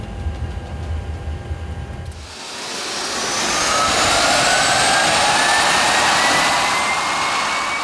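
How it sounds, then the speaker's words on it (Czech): Boeing 737 MAX 8 jet engine starting on the ground with air from the auxiliary power unit: a low rumble gives way to a rising whine and roar that builds and holds loud and close. "Engine start switches to ground."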